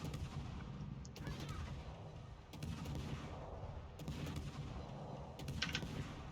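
Heavy naval gun salvos from the warship Formidable in the World of Warships game, booming in about four spaced bursts every second or so over a constant low rumble of battle noise.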